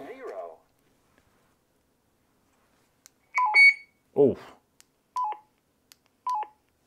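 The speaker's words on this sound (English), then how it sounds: "So there's your two Roger beeps" Short electronic roger beep tones from a Talkpod A36 Plus two-way radio sound in separate bursts with quiet gaps between them, along with a brief spoken exclamation.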